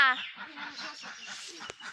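Broiler ducks and fowl at a poultry seller's place, a quick burst of clucking and cackling calls close by, then a steady stream of softer repeated calls with a sharp knock near the end.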